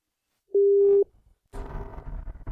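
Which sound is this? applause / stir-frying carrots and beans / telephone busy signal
telephone busy signal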